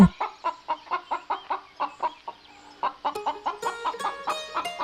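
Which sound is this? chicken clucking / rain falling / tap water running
chicken clucking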